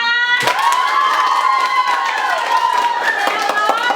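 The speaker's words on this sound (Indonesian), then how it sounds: "Mari kita beri tepuk tangan untuk ketiga juara kita." Children in a classroom clap and cheer for three prize winners, a dense, steady wash of applause with bright shouts and whoops running through it for the whole stretch, loud and close.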